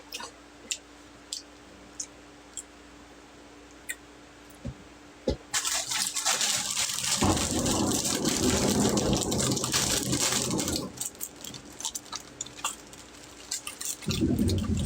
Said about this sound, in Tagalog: grabe na yung ulan